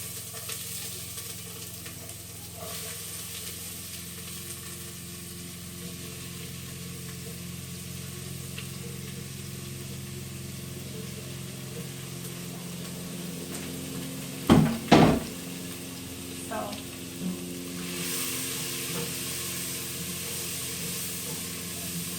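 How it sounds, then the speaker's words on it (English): Onions and peppers sautéing in extra virgin olive oil in a pot, a steady close sizzle running throughout, broken midway by a couple of sharp knocks and scrapes from stirring. "I'm going to saute my onions and my peppers in here."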